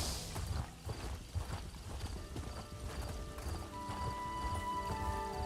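Horse hooves clip-clop at a steady riding pace in Elder Scrolls Online, with occasional whinnies and soft game music beneath, fairly close and continuous.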